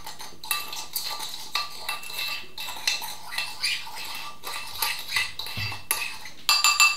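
A spoon stirring a bowl of powdered seasoning mix for air fryer chicken wings: repeated close scraping and clinking of metal against the bowl in an uneven rhythm, ending with a few sharper clinks.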